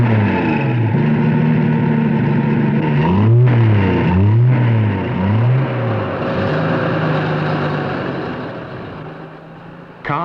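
A car engine revs loudly and steadily, its pitch sweeping up and down in repeated arcs as it accelerates and eases off, with no voices over it.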